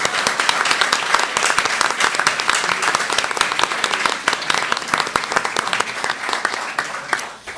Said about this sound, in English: Let's have one last round of applause for all of our fine candidates up